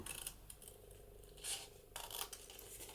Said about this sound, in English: I'm going to cut that corner out